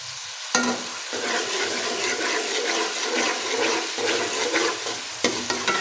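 Desi ghee tempering for sarson ka saag sizzles and crackles steadily in the pan, with a couple of sharp utensil clatters near the start and end and no talking.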